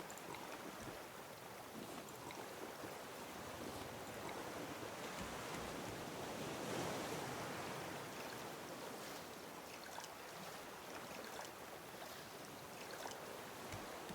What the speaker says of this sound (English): I couldn't even hear you over the waves here.